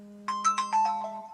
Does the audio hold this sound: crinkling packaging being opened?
no